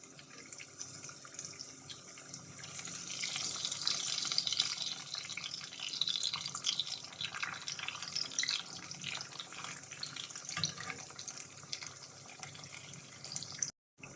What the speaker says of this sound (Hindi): फ़िश फ्राई होते हुए 3 से 4 मिनट हो चुके हैं